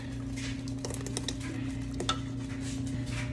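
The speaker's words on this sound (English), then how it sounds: "Reduce your heat and add your roux in." Roux goes into a pot of cheesy potato soup and gets stirred, a steady close bubbling simmer under soft scraping and squishing strokes, with one light clink of a utensil against the pot.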